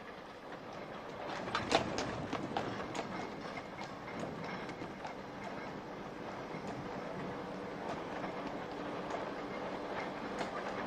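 An early British tram from about a century ago runs along its rails with a steady rumble and a spread of light clicks and clacks. It is heard at a moderate distance, alone and without talk.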